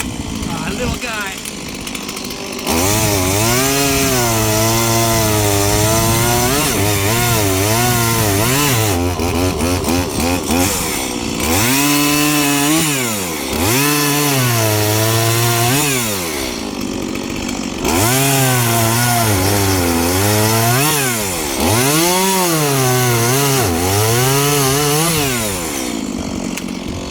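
A Stihl chainsaw, freshly sharpened with a 2-in-1 filing guide, cuts through wood. Its engine revs up and bogs down in several loud rising and falling bursts, with short idle gaps between cuts.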